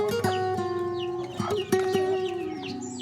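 Free-range desi chickens cluck in short, close bursts over a few seconds, with sharp individual calls standing out against a quiet farmyard background.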